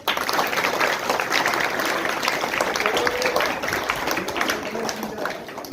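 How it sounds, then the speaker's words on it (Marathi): A school audience claps together, a full, steady round of applause that starts abruptly and holds evenly for several seconds before easing slightly. "सर्वांनी टाळ्या वाजून"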